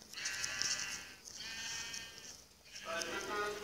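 Sheep in a video game, one of them poisoned, bleat in long wavering cries, three in a row with short pauses between them, heard clearly over a faint game background.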